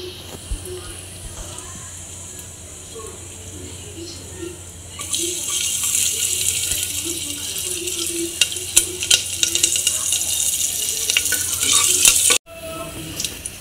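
Mustard seeds, cumin and asafoetida sizzling in hot oil for white pea usal, a bright hiss that swells loudly halfway through with scattered pops and crackles, while a person talks in the background.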